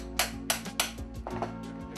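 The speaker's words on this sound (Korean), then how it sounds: "금박에 도장 모양의 모형을 대고 망치로 두드려 찍어주면 이렇게 거북이 모양이 찍혀 나오는데" An old hammer taps a stamp mold onto gold leaf in a silverware workshop: three distinct sharp metallic strikes in quick, even succession, then several lighter taps, close and alone without talk.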